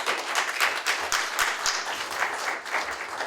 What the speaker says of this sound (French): On va encore applaudir